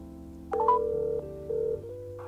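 Steady electronic tones from a phone as a call is dialed: a low hum, then a few sustained beeps and pitched tones stepping between notes, clean and close with no talking.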